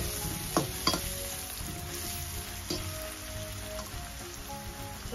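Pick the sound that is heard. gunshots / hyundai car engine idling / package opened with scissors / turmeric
turmeric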